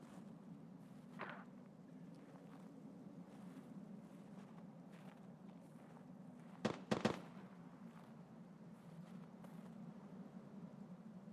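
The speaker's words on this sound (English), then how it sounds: "I just got sniped." Sniper rifle shot in the shooter game Escape from Tarkov, a sharp, loud crack followed at once by a second report, standing out over a steady low ambient rumble.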